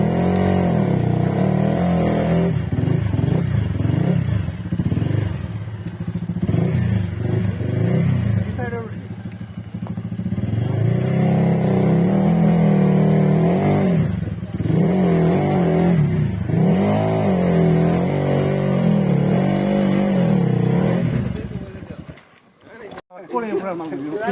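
Motorcycles straining up a steep, narrow off-road hill climb, with loud, continuous engine drone that rises and falls in repeated revs, close and dominant, with a voice talking over it.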